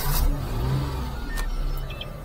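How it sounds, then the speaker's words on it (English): A micro van's small engine runs steadily, with a low, continuous rumble that swells slightly as it revs, close and fairly loud with no talking. "I'll give it a little gas."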